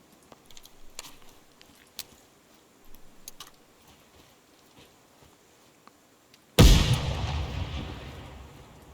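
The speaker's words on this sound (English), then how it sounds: "Is that a shotgun?" A single loud, booming shotgun blast rings out in the video game Ground Branch after a stretch of quiet ticking and faint movement, its roar decaying slowly over the final seconds.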